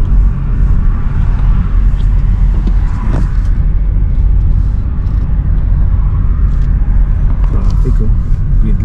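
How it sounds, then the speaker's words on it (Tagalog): Night road traffic in Vancouver heard from inside a car, a loud steady engine and tire rumble with broad road hiss, occasional faint knocks and clicks scattered through the drone. "Ito yung traffic dito sa Vancouver mga ka-vlogs"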